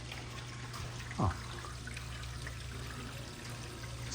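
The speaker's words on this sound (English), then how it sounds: "It's like a rain stick, water running down a pipe." Water runs down a pipe inside Monroeville Mall, a faint, continuous trickle like a rain stick over a low ambient hum, with one brief, brighter sweep partway through.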